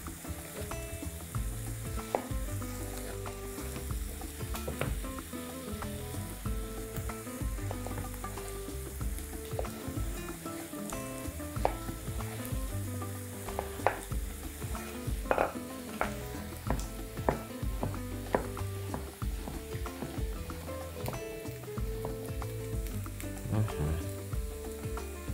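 Cubed zucchini and pork tenderloin fry in a hot pan, giving a steady, close sizzle throughout. Frequent stirring scrapes and clicks of the utensil against the pan break through it. No voices.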